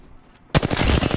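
A sudden burst of rapid automatic gunfire in the battle-royale game Apex Legends breaks out after a quiet half second, loud, close and continuous, with no talking.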